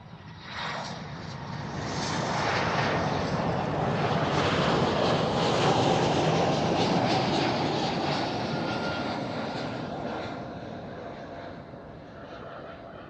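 An Air Baltic airliner at Amsterdam Schiphol Airport roars past at a distance, its jet engine noise swelling to a broad, loud rumble midway and fading slowly.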